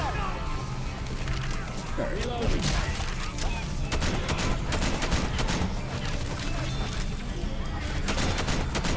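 Rapid gunfire in the Left 4 Dead 2 video game, dense continuous bursts of shots with booms throughout, loud and steady, with someone talking over the action.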